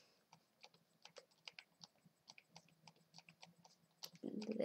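Computer mouse clicking on squares of an online chess board during a live training game: a steady series of sharp, quiet clicks at an uneven pace, ending in a louder burst of noise.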